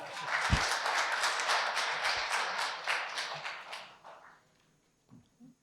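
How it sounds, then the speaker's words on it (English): An audience at a talk applauds a speaker with steady, moderately distant clapping that swells, then fades out over about four seconds, followed by a brief quiet with faint movement. "Please, a round of applause to her."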